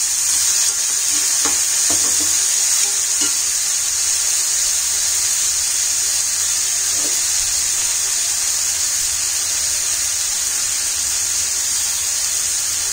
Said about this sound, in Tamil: வெங்காயம் நல்லா பொன்னிறமா வதங்கணும், அந்த அளவுக்கு நல்லா வதக்கிக்கோங்க.